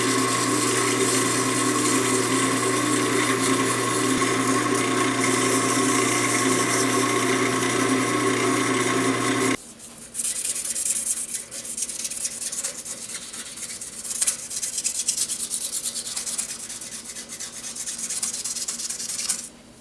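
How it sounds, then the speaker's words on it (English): A pen blank spinning on a lathe is dry-sanded with 320 grit sandpaper, a steady close motor hum with constant abrasive rubbing, then a quieter stretch of scratchy friction after the hum drops out, with no talk. "I'm going to start with 320 grit dry right now"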